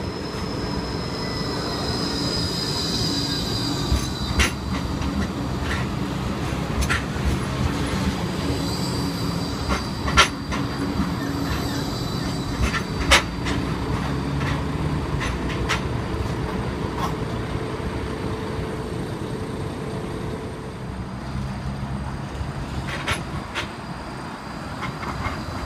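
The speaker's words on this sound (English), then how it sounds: "Tram 8's now departing for a university something or other service" A light rail tram on the Gold Coast G:link rumbles steadily nearby at Broadbeach South station with rhythmic clicks and high wheel squeals, the noise easing and fading as it pulls away.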